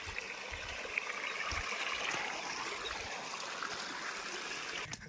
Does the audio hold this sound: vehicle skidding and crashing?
no